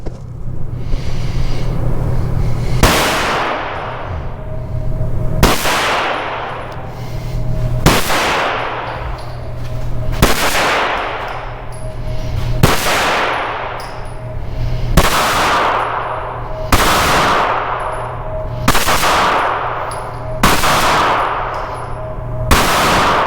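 Nine loud, sharp gunshots from a Smith & Wesson FPC 9mm carbine at an outdoor range, fired at a steady pace roughly every two and a half seconds, each crack trailing a ringing decay and metallic clang.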